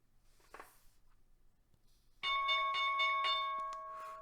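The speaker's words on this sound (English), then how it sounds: "All right, there's the bell." A stock market opening bell rings out loud and sustained after a quiet stretch, its bright steady tone holding to the end over a faint background hiss.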